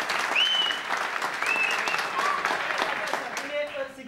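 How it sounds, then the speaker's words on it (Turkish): Sustained applause from an audience, dense and even, with faint voices and a whistle-like tone riding over the clapping. "alkış istiyoruz"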